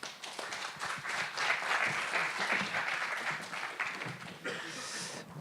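Applause from an audience closing a round table at a business seminar, steady mixed clapping of a moderate crowd throughout, fairly close and even in level, thinning slightly near the end.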